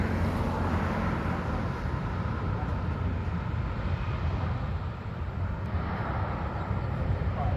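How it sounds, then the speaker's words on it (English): A jet airliner just landed at Kuala Lumpur International Airport roars in a broad, loud, steady rush of engine noise heard at a distance, with no talk. "This is my jet. Just landed at Kuala Lumpur International Airport."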